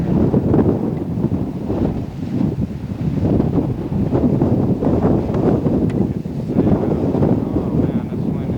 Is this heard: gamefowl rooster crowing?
no